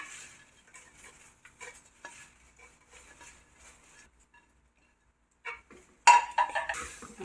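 Curry leaves being roasted and stirred in a pan for a Kerala chutney powder, soft scraping stirs and faint crackles recurring quietly, then a louder burst of stirring and clatter near the end.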